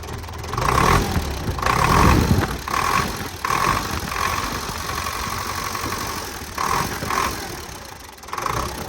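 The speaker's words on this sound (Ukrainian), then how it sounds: "послухаємо звук мотора" A Belarus MTZ-82 tractor's D-242 diesel engine runs at idle with a steady rough knocking rumble, close and loud, rising and dipping slightly throughout.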